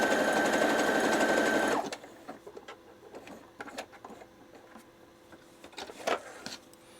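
A sewing machine runs a test stitch in a steady, fast mechanical whir for about two seconds, then stops, followed by faint clicks and handling of the machine.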